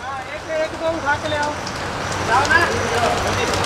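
Steady rain falls across a cricket ground after a finished match, heard from an indoor owners' lounge as a constant hiss, with voices talking quietly underneath throughout.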